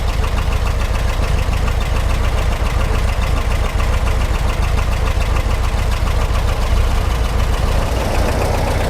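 A car engine, a Speedster, idling steadily during an oil leak check, with a dense, even low rumble and fine rapid ticking, close and loud throughout with no pauses or voices.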